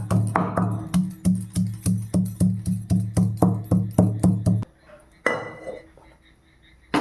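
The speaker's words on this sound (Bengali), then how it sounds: "এবার আদাটাকে আমি কুচি করে নেব, এটা বাটবো না।" Ginger being finely chopped with a knife on a cutting board in a home kitchen: a steady run of about sixteen crisp, evenly spaced strikes, close and fairly loud, that stops abruptly and leaves quieter shuffling.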